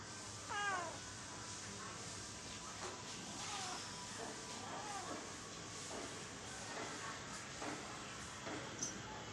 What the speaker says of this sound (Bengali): তুই ম্যাও